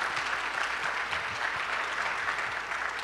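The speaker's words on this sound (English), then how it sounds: "I think we owe them a big round of applause and a debt of gratitude." A crowd at an entrepreneurship event gives a big round of applause, a steady, even patter of many hands clapping at moderate distance with no break.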